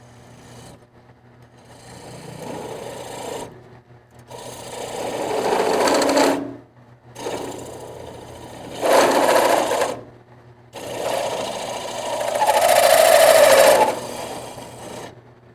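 A milling machine whirs and grinds in several bursts with short quiet gaps between while boring a hole, a rasping mechanical drone close by.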